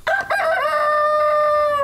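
A rooster gives a loud, close cock-a-doodle-doo crow on a lot where chickens are kept. The call is a single sustained harmonic crow that follows a brief rough onset.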